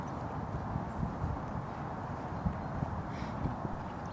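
Hooves of a horse clop softly at a steady walking pace beneath a constant low rumble of background noise, faint and somewhat distant, with no talking.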